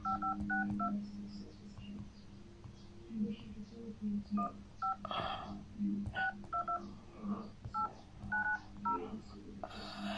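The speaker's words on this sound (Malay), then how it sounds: "Kita tekan je nombor" Telephone keypad DTMF tones dialing a number, short paired beeps in quick groups with gaps between, heard close over a steady background hum and occasional faint handling noise.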